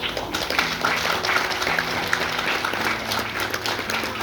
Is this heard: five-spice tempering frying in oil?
no